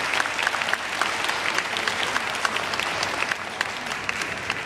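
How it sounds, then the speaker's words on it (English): Sustained audience applause fills the room at a community event for senior centers, dense and steady clapping throughout with no speech over it. "So let's give them a round of applause."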